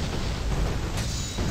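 A cannon shot explosion in the video game Gun, a broad rumbling boom that fills the moment loudly and evenly, with a brief sharper burst near the end.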